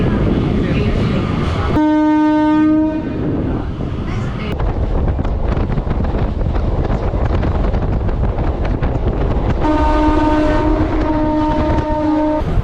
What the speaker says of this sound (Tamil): இப்போ ட்ரெயின் நிற்கிறது தாங்க திருநின்றவூர் ரயில்வே ஸ்டேஷன்.